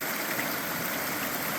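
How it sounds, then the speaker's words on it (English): A sheet of water slides over rock at a small cascade on a waterfall trail. It makes a steady, close hiss and rush with no break. "I do love the sheet of water flowing over the rock"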